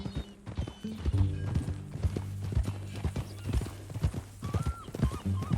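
Hooves clip-clop in Red Dead Redemption 2 as a horse walks at a steady, even pace, close and distinct, with a brief neigh or snort partway through and light ambient game sound behind.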